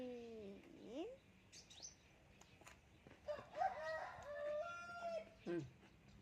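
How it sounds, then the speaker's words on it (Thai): A rooster crows in a long rising-and-falling call, with smaller bird chirps and a brief voice around it, fairly faint and distant. "ไก่ร้องเอ๊ะเอ๊ะเอ๊ะเอ๊ะ"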